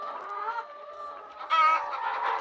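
Chickens on a farm clucking and murmuring together at feeding time, a close, continuous flock chatter with one louder, rising squawk partway through.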